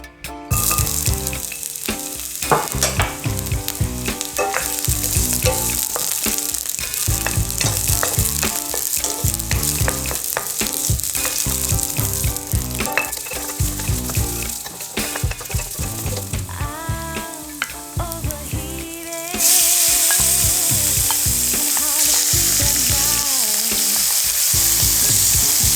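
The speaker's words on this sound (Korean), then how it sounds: "프라이팬에 기름을 둘러 주시고요. 마늘을 4개 정도 썰어서 마늘을 먼저 볶아줍니다." Sliced garlic frying in oil in a frying pan, giving a dense, loud, continuous crackling sizzle that swells brighter toward the end, close up with no talk.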